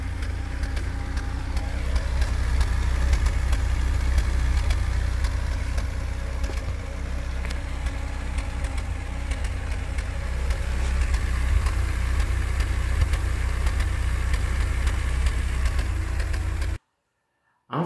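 Mercedes car engine with KE-Jetronic fuel injection idling, a steady low rumble with a slightly uneven rhythm that runs unbroken for most of the clip, then cuts off briefly near the end.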